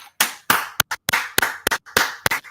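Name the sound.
hand clapping for a donation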